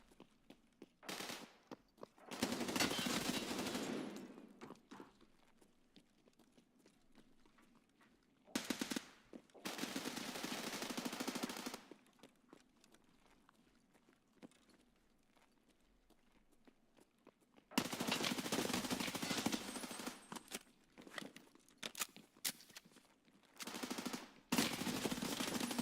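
Bursts of automatic gunfire in the video game Tarkov Arena come in several loud, sustained volleys separated by quieter gaps, with rapid repeated shots and some footstep-like movement between them.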